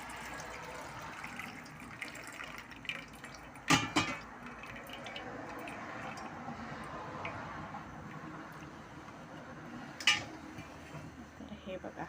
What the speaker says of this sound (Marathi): तर हे जे मिश्रण आहे ना ते मी हे टोपामध्ये गाळून घेते.